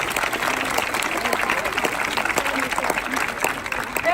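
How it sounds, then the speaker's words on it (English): A crowd at a school mural celebration for the students at Curtis Fundamental applauds steadily, a dense, even patter of many hands with some murmuring mixed in, moderately loud throughout. "I'd like to applaud all the students."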